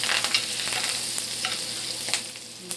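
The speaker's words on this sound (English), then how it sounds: "See the butter is foaming up." Butter foams and sizzles around a New York strip steak in a skillet, a close, steady bright crackle with small spits and pops and no voices.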